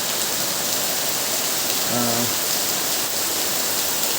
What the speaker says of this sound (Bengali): বৃষ্টির শব্দ শুনতে পাচ্ছেন এবং দেখতে পাচ্ছেন মুসলধারে বৃষ্টি হচ্ছে